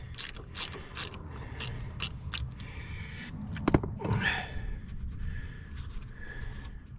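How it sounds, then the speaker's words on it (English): A ratchet wrench clicks in quick bursts while a brake line is taken off a car during a brake caliper job, with a couple of clunks of metal and tool handling in between. "Now what I got to do is take off this brake line."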